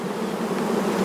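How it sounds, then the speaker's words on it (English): Honeybees buzz inside a hive being readied for winter, a dense, steady hum from a full colony heard close up and alone. "They're pretty full of bees."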